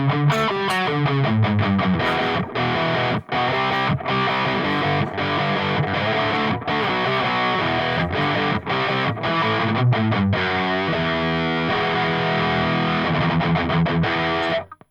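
A heavily distorted electric guitar plays a chugging riff with rhythmic stops through an Amplitube Tonex pedal, loud and close, with no voices.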